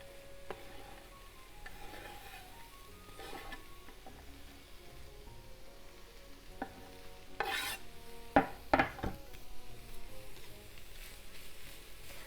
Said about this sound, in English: let's stir fry the carrot